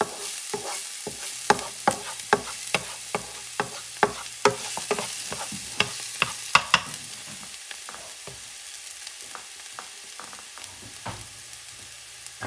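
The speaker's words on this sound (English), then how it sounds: "Mix it up well. You don't want the garlic to burn." Minced garlic frying in a pan for Spanish octopus rice, a steady soft sizzle punctuated by a regular series of sharp scraping taps as it is stirred, no voices.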